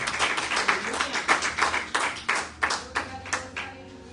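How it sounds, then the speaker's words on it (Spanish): A church congregation clapping in a distinct, fairly steady rhythm of sharp hand claps, close and clear, lasting around four seconds with a few voices mixed in. "Denle un fuerte aplauso al Señor"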